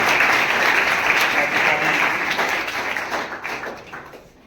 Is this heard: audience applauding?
yes